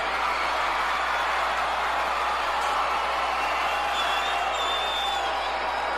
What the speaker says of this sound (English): this crowd is on fire